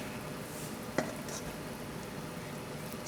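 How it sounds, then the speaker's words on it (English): Heated soda bubbling and fizzing in a pot as cornstarch is added, a soft continuous sizzle with one brief clink of a utensil near the start. "Going to add a fair amount of cornstarch while it's still a bubbling."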